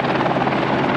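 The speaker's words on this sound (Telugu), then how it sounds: "చూడండి హెలికాప్టర్ వస్తుంది." A helicopter close by at Kedarnath, with a loud continuous rotor throb and a pulsing engine drone throughout the short moment.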